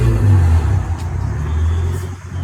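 A car engine in poor condition, overdue for a tune-up, idling with a heavy low rumble and an uneven, rattling throb that swells and eases, fairly close and loud, with no talk over it.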